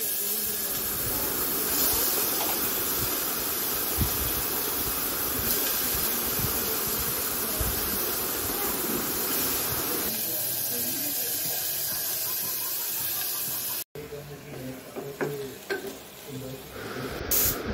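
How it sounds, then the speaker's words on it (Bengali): A pressure cooker cooking khichdi lets off a long, loud, steady steam hiss, which gives way to quieter kitchen clatter and faint voices. "প্রেশার কুকারে সিটি দিয়ে নিলাম"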